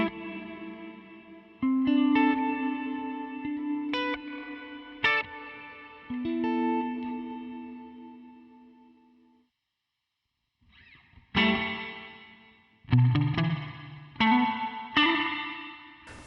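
Electric guitar through a budget guitar pedal's reverse reverb setting: notes swelling and sustaining with a washed, reverse-style reverb tail, then a pause before another run of chords fades in.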